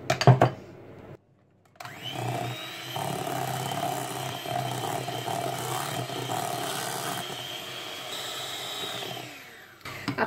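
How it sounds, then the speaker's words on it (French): An electric hand mixer whirs steadily through chocolate cheesecake batter for about eight seconds, loud and close, after a brief pause, with short clattering handling sounds before and after. "Donc je vais mélanger au batteur électrique."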